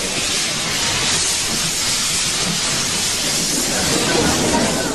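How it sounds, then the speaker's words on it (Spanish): A steam locomotive near the Vilanova railway museum in Spain releases a loud, continuous hiss of steam that holds steady for the whole stretch, close and unbroken, without speech. "a pocos metros del Museo de Vilanova siguen circulando locomotoras de vapor"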